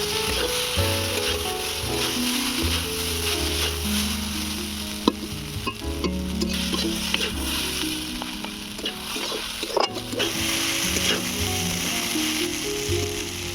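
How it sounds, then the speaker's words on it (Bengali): Homemade egg chow mein is stir-fried and tossed in a pan with a steady, close sizzle and occasional scraping stirs, over continuous background music. "চাউমিনটাকে ভালো করে নেড়ে চেড়ে ভেজে নিয়েছি"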